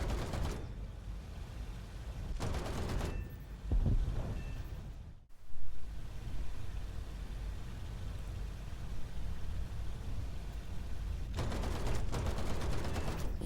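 A J5N1 interceptor in a combat flight game fires short cannon bursts at bombers: brief rattling volleys over steady engine and wind roar, with a sharp gap mid-way before the drone resumes.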